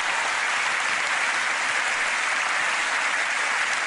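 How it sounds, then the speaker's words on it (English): A studio audience at a British TV sports comedy panel show bursts into loud, sustained applause, a thick, even roar of clapping with no pause from start to finish. "Give them a round of applause"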